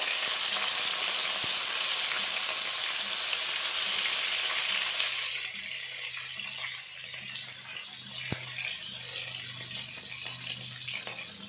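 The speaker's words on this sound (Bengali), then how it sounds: "তো বেগুনগুলো আমি বোটা সমেত দুফালি করে কেটে নিয়েছি ভেজে নেবো" Eggplant halves, cut lengthwise with stems on, frying in oil for a vegetarian begun sundori, starting as a loud, bright hiss that drops after a few seconds to a softer, steady sizzle with an occasional clack.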